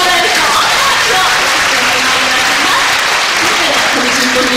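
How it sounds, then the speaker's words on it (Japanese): A symposium audience applauds in a hall, dense, loud, sustained clapping that stays even throughout. "今日参加してよかったなと思える方拍手をよろしくお願いします"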